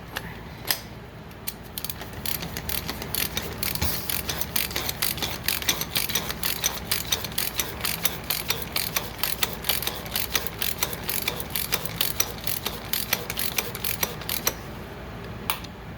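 A ratchet clicks in a rapid, steady run of sharp pawl ticks as it tightens the oil filter cap on a BMW F30 N55 engine, close by and fairly even, with no talking over it.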